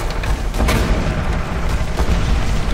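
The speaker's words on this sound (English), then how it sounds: "GDI weapons factory destroyed." A GDI weapons factory blowing up in the Renegade X video game, a dense continuous roar of booming explosions that stays loud from start to finish.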